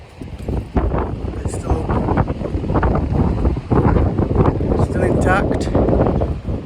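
Strong gusty wind roars and buffets the microphone around a Tentbox rooftop tent at an off-grid campsite near Bootle, Cumbria, surging loudly while people talk over it.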